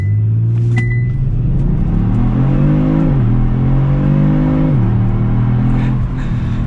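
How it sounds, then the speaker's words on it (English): A 2022 Kia Stinger GT2 RWD launches hard under launch control, its engine roaring loudly and steadily as revs climb, with two brief dips at gear shifts. "we will do launch control one more time"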